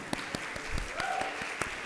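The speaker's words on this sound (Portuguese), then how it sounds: "Palmas para vocês." Sparse, quiet applause from a small group, a handful of separate claps spread out over a low room hum.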